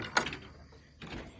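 On a farm, a chicken coop door fitted with clips is unfastened and swung open, starting with a sharp metallic clack and followed by a second, softer rattle a moment later.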